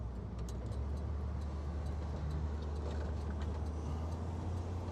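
A Renault Ambassador car drives back to the garage, a low steady engine rumble from inside the car at moderate level.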